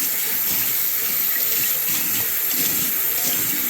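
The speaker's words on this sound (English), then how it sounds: "Let's run some water." Tap water runs steadily from a faucet into a sink beside a clogged toilet and jammed garbage disposal, making a continuous close rushing splash without pauses or talk.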